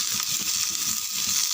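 Onions and green chillies sauté in a pan with a steady broadband sizzle throughout, close and moderately loud, with faint stirring scrapes underneath.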